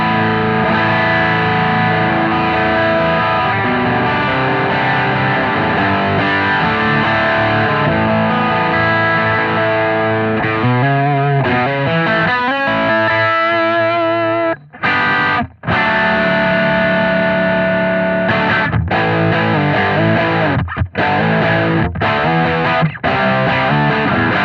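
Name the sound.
Strymon Riverside pedal overdrive at high gain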